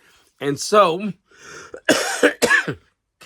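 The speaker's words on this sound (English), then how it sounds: "I hope I get over this cough soon." A person speaks a couple of words, then coughs harshly several times in quick bursts, close to the microphone.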